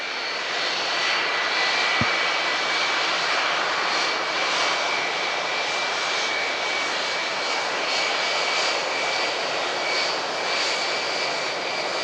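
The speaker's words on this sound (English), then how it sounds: "This 757, pretty much identical to the one we're seeing retiring today." Boeing 757 jet engines roaring at Manchester Airport, a loud, steady broadband roar with a high whine held throughout, close by and without speech.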